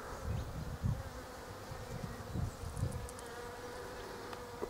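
Bees and flies buzz softly around flowering Photinia serrulata outdoors, a low continuous hum with a few louder passes as insects fly close to the microphone, no talking.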